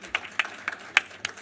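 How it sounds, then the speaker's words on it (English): An audience at a productivity forum in Jamaica gives a short, sparse round of applause, a handful of distinct hand claps spaced irregularly over a quiet room. "Give them a round of applause."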